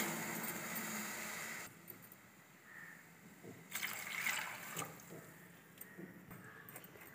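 Water poured over jaggery in a pot while making rice flour balls in a home kitchen: a soft, faint splashing and trickling with a few louder gushes, heard up close and alone.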